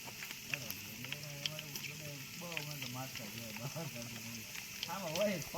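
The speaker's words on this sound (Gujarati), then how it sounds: "અમારે જીરું તેલ ગરમ થઈ ગયું છે અને હવે આવે છે અમારે જીરું" Cumin seeds sizzle in hot oil with a steady, crackling hiss that runs throughout. Voices talk over it, and one person speaks in a sing-song way.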